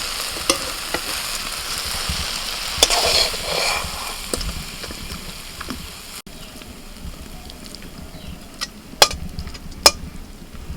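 Fish frying in hot oil in a pan, a continuous close sizzle with occasional sharper pops and clicks, loud at first and easing to a quieter crackle, with no talk.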